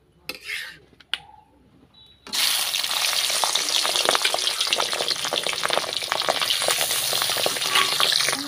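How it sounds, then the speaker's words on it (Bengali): Katla fish pieces sliding one by one into well-heated oil, setting off a loud, steady sizzle and crackle that fills the pan after a few quiet clinks and handling noises. "দেখুন তেলটা খুব ভালোভাবে গরম হয়ে গেছে। এবারে এতে আমি একে একে সব মাছগুলো দিয়ে দেব।"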